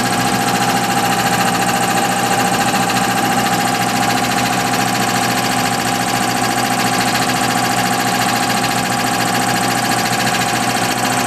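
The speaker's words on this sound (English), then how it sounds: "Going to shut the film off until the compressor fills up a little bit more, so you're not just listening to the rattle." An air compressor runs steadily beside an engine cold-started in chilly weather, a constant mechanical drone with a fine rattling texture that holds at one level throughout, loud and close with no speech.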